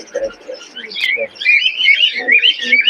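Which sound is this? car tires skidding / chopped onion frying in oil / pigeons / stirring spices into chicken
pigeons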